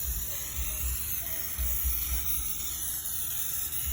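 Easy-Off oven cleaner is sprayed onto an old military surplus rifle stock, with a steady continuous hissing spray and a faint low rumble underneath, close and unbroken.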